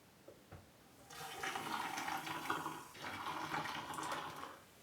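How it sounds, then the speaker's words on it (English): Hot vinegar gushes and gurgles down a drain for a few seconds, starting suddenly and then tapering off. "this is hot water or hot vinegar, and I'm gonna pour right into it."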